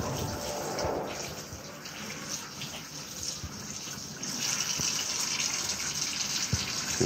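Tap water runs over and through a gutted pompano as it is rinsed out, a steady close gush with a few splashy bumps and no talking.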